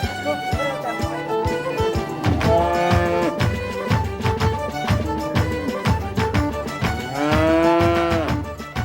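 Cattle moo repeatedly at an agricultural livestock show, loud and near, with bellows rising over a busy barn background of shuffling and clatter.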